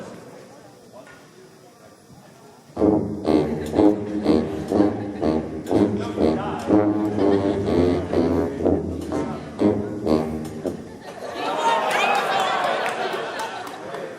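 Tubas and a baritone sax play their low part of a school fight song live at a parents' concert, a loud rhythmic run of punchy notes, then crowd noise and chatter rise at the end.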